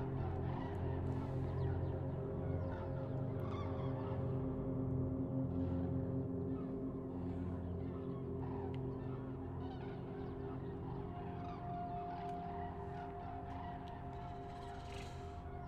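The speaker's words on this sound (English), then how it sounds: "Let's see your birds. There go the birds again." Birds call repeatedly in the video game Asemblance: Oversight, honking goose-like cries rising over a steady droning ambient hum and persisting alone throughout.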